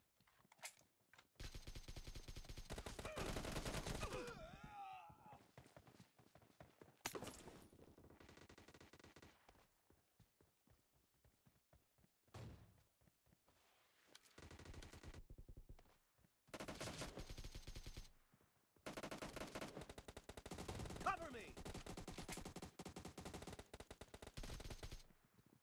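Sustained AKM rifle fire in the BGMI warehouse team deathmatch, long loud automatic bursts repeating across the whole stretch with short gaps between volleys, no voices.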